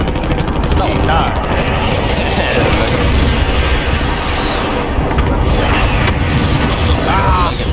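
Explosions rip through a Warzone match as enemies on the rafters use explosives, a loud, dense wall of booms and gunfire-like bursts, with players' voices talking over the din.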